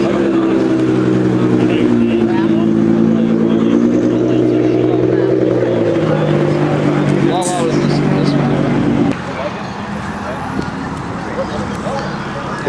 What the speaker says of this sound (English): that's the drift car.